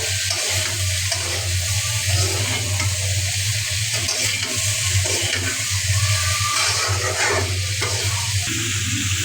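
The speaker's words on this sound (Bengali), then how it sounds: "এখন আম্মু ভালো করে নেড়ে চেড়ে নিচ্ছে।" Food stirred in a frying pan on a home stove, a steady broadband sizzle with scraping and clinking of the spoon running throughout at close range, no voices.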